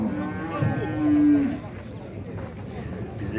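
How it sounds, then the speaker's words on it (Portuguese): A dairy cow lets out a single low moo, close by, while someone talks outdoors at a cattle fair over faint background noise. "Tá uma vaca bacana aqui, ó."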